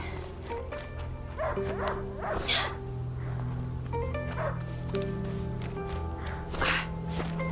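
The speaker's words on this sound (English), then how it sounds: "He stopped barking." A dog barks and yips several times in the video game A Plague Tale: Innocence, over a steady musical background with occasional footsteps, the barks moderately loud and irregularly spaced.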